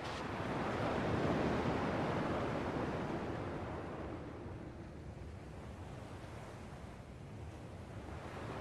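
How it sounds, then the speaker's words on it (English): Ocean surf from Kingdom Hearts II washes in a broad continuous roar, swelling loudest early then settling into a steadier hiss of waves and wind, with no voices. "At least the waves sound the same."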